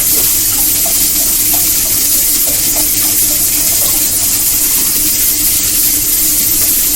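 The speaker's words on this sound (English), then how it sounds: "And I'm going to add some broth." Broth pours steadily into a cooking pan, a continuous close splashing flow of liquid that runs unbroken for several seconds with no talk.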